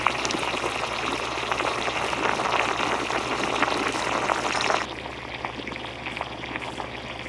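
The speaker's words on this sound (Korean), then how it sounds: "먼저 우유 400ml를 붓고 끓기 시작하면 쫄면을 가닥가닥 떼서 넣어주세요." Milk bubbles at a rolling boil in a pot as strands of chewy jjolmyeon noodles are dropped in, a dense close sizzling bubble that drops abruptly quieter about two thirds through.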